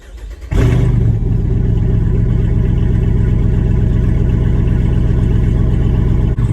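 A Jeep Rubicon 392 V8, freshly tuned with a Diablosport tune and PCM swap, cranks and fires, flaring briefly before settling into a loud, steady, rumbling idle up close with no talking.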